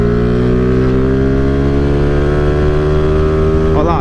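A 2008 Honda CG 150 Titan motorcycle engine drones steadily and loudly at speed on a ride, a constant close single-cylinder hum with a slight pitch change near the end.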